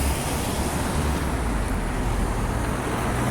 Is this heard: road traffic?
yes